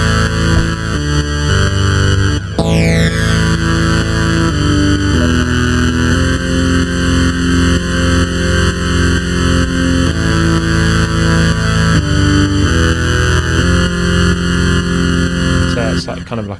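Thor synth patch in Reason, sidechained to the bass drum through a compressor: a dense, distorted sustained tone with a sharp downward sweep near the start and a faint rhythmic pumping throughout, loud and continuous.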